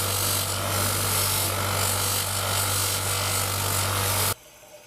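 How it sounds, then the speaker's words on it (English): Knife blade pressed against a spinning polishing wheel fitted with a loose cloth mop, giving a loud, steady motor whine and broadband buffing hiss that runs continuously for about four seconds, then cuts off abruptly into near silence. "Last thing I'm going to do to that is put it on the polishing wheel with a loose mop."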